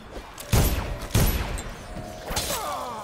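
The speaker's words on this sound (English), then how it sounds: "I'm shooting people twice" Two sharp gunshot blasts fire about half a second apart in the Dishonored stealth game, loud and close, followed by rumbling echoes and a fainter later impact.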